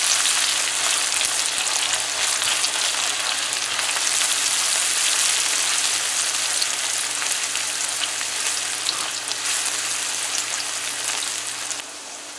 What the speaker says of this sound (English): So we're just gonna fry this up for about a minute.